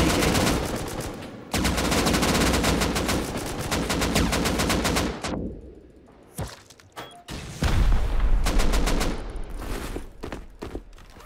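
AK rifle fire in a survival shooter crackles in long, loud, rapid automatic bursts, breaking into scattered shots and short volleys after a pause.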